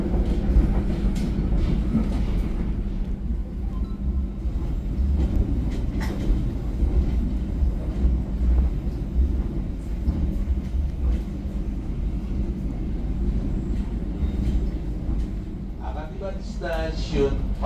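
Passenger train KA Pangandaran running on rails: a continuous low rumble with rhythmic clicking and rattling of the carriage, heard from inside while an onboard announcement plays over it.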